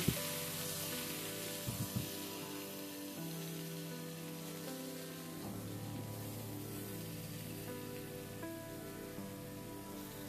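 Sliced ridge gourd sizzles steadily in hot oil in a pan with small mola fish, a continuous close frying hiss with a few faint clinks of a spatula.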